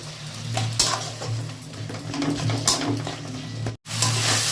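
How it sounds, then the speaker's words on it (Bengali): Tomatoes mashed with a spatula in a pan of Bengali potato curry masala for kachori, scraping and clinking against the pan over a steady low hum, with a brief drop to silence near the end. "টমেটো গুলোকে একটু খুন্তি দিয়ে ঘেটে নেবো"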